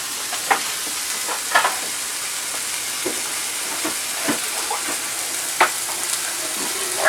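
Chicken frying in a pan gives a steady, soft sizzle with faint crackles and pops scattered through it. No one talks.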